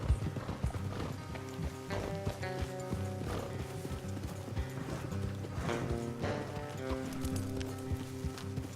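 Horses clip-clop steadily along a trail while being ridden in the video game Red Dead Redemption 2, the hooves a constant rhythmic beat under a music score with no talk.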